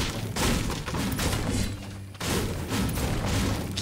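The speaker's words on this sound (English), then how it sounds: "Now all you have to do is start destroying those trees right here" Trees smashed apart with a harvesting pickaxe in Fortnite, a dense run of loud thuds and crunching impacts with a short break midway before the chopping resumes.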